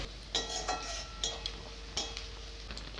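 A spoon scrapes and clinks against a cooking pot while onion and ground chili, coriander, turmeric and cumin are stirred, giving irregular metallic taps and scrapes over a soft steady background.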